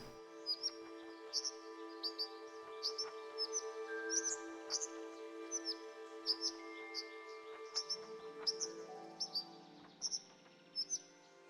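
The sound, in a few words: birds chirping in a video game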